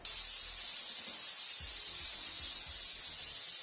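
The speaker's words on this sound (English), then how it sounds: "We'll spray that right in." A steady, fine hiss of airbrush paint spray runs throughout, with faint low bumps and handling noises underneath.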